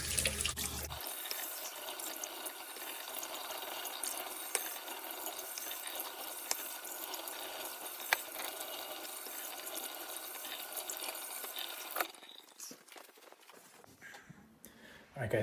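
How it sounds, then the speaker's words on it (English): Cold water runs from a tap over perch and crappie fillets, a steady hissing rush that continues for about twelve seconds before stopping and giving way to quieter drips and handling sounds. "So, yep, run it under some very cold water."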